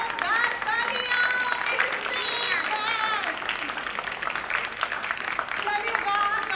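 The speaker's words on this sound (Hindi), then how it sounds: "जोरदार तालियां," Loud applause from a studio audience at a televised birthday-themed variety show, mixed with cheering, whistles and bright musical tones that rise and fall throughout, with no words spoken.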